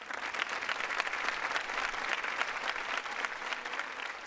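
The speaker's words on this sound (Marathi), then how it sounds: "जोरदार टाळ्या इरावती कर्णिक यांच्यासाठी झाल्या पाहिजे." An audience at a Marathi television comedy show claps, a steady loud burst of applause that carries on throughout.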